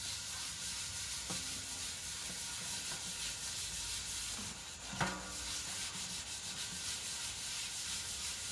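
Gritty scrubbing of a stainless steel pot using dirt as an abrasive, a continuous rough rubbing and scraping close by, with a sharper knock near the middle and no talking.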